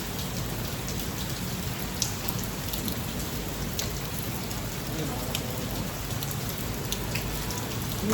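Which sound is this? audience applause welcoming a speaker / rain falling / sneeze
rain falling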